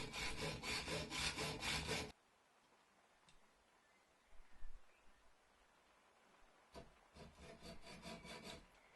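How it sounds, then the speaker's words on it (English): A hacksaw cuts through a metal compass lug, the blade held at an angle; rhythmic back-and-forth sawing strokes sound loud and close for about two seconds, pause in near quiet, then resume. "As you can see, I'm canting the hacksaw at an angle."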